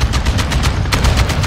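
Rapid gunfire in Modern Warfare II, a dense, loud run of repeated automatic shots with steady rhythm and bursts through the whole moment, no speech.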